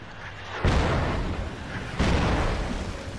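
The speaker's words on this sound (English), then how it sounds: "They got like three mortars up now." Mortar rounds land in the tactical shooter Project Reality, two heavy booms a little over a second apart, each rolling into a long, loud rumbling decay with no voices over them.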